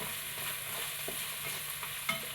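Chopped tomato with salt is stirred in a frying pan, a soft steady sizzle broken by a few light scraping strokes, close and quiet, with no voices.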